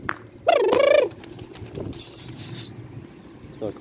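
Racing pigeons taking off in Karachi, a short burst of loud wing flapping followed by faint flutters, soft coos and a thin whistle-like tone in a quiet outdoor setting.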